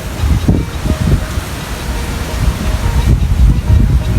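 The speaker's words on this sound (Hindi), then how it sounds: "इतना झक्खड़" A strong windstorm roars and buffets against the microphone in loud, uneven gusts, with rushing noise and a rain-like hiss throughout.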